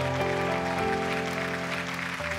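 Audience applause at a televised singing competition in front of judges, a steady wash of clapping running the whole moment, mixed with sustained musical tones underneath.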